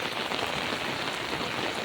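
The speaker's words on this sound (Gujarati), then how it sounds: "ધોર વરસાદ જ બહુ છે" Heavy, steady winter rain pours down in a dense, continuous hiss with no voices, drumming evenly throughout, on farmland.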